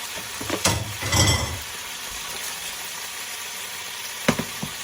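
Shrimp and mushrooms sizzle in butter in a pan, a steady close hiss running throughout, broken by a few sharp scrapes and clatters of a utensil against the pan.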